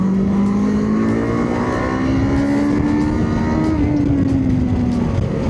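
Kawasaki KLE 500 engine held at high RPM, a loud continuous buzzing drone that climbs slowly in pitch, peaks, then eases slightly, heard close with no voices.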